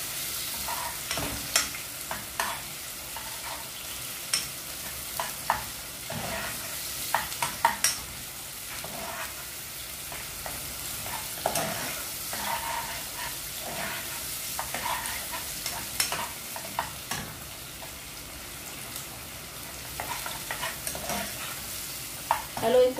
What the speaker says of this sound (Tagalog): Haluin po natin ng maayos, guys, para po maganda po yung pagkagisa ng mga sangkap.